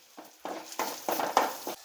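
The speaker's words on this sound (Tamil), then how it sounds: "அவ்வளவுதான், ரசம் தாளித்து விட்டாச்சு." Oil sizzling in a pan as tempering spices and curry leaves for rasam are added in several quick bursts, each crackle flaring and then settling, close and moderately loud with no talking.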